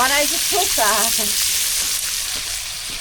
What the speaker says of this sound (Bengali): ভাজা হয়ে গেছে প্রায় মাছ